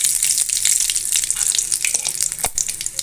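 Mustard seeds crackling and sizzling in hot oil in a kadai for a peanut-mint chutney tempering, a dense, loud, close hiss full of rapid pops, with one sharper clatter near the end.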